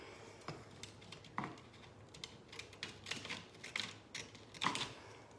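Scissors snip corner slits into a transfer sheet during a jewelry box makeover, several quiet, sharp cuts spaced irregularly against a soft room hum.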